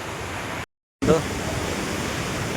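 Sea waves roll in at Bheemili beach near Visakhapatnam, a steady broadband wash of surf broken by a brief gap, with a voice talking faintly beneath.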